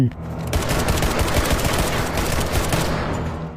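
Rapid gunfire rattles in a dense, continuous burst like a machine gun in a dramatic film scene, loud and close and sustained across the whole moment.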